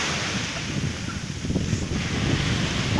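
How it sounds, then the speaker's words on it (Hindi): Sea waves wash onto Juhu beach in Mumbai with gusty wind buffeting the microphone, a steady rushing wash that swells slightly louder toward the end. "कितनी ठंडी ठंडी हवाएं चल रही है, कितना अच्छा सा पानी हमारे बीच में आ रहा है"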